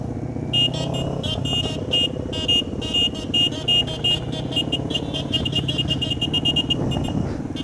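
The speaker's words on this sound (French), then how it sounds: "C'est un klaxon de voiture qu'il a lui ou quoi?" A motorcycle horn that sounds like a car horn honks again and again in short blasts of uneven rhythm during a motorcycle convoy ride in Brittany, over steady traffic and engine noise.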